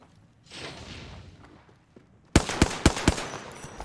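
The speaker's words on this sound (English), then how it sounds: "Getting shot at." Gunfire in a shooter video game, a soft rustling lead-in, then a loud close volley of four or five sharp, evenly spaced shots with a ringing tail, no voices heard.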